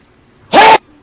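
A single sharp sneeze bursts out close by, loud and brief against near silence.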